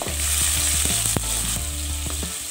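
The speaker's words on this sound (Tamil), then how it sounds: "கொஞ்சம் நல்லா வதக்குவோம்." Onions and tomatoes sautéing in a hot pan for drumstick rasam, a steady loud sizzle and crackle with light stirring scrapes throughout, no voices.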